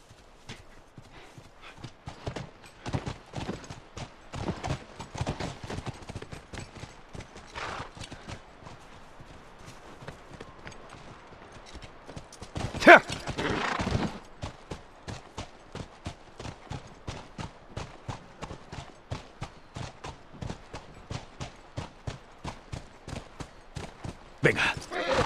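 Horse hooves clip-clop steadily on the ground as riders travel on horseback in The Last of Us video game, a quick, even rhythm of close hoofbeats running throughout, with a brief louder burst midway.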